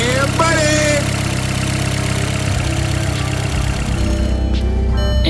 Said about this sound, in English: Engine sounds normal and idles pretty smooth.